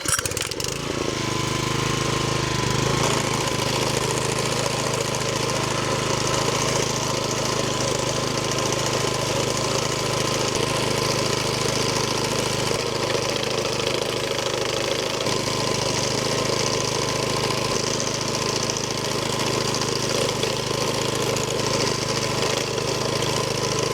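Grass-cutting mower engine running on a smallholding while mowing around a nursery and up and down slopes, a loud, continuous, steady engine drone with a rough, knocking texture throughout, no voices.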